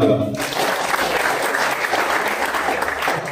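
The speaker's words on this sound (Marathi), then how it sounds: "त्याच्यासाठी जोरदार टाळ्या वाजवा." Audience at a poetry book launch in Marathi breaks into loud, sustained applause that fills the whole stretch after a brief opening moment, steady clapping from a seated crowd indoors.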